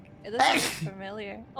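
One sharp, loud sneeze bursts out near the start, between bits of casual talk from people in the room.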